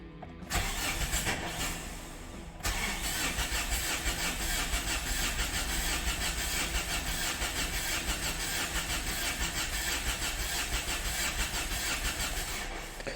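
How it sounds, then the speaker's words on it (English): Mazda MZR-CD 2.2 diesel engine with the EGR pipe left off cranks briefly, then fires and settles into a steady, clattering idle, running loud and close without interruption to the end. "I'm just going to run the engine like this and see if it starts."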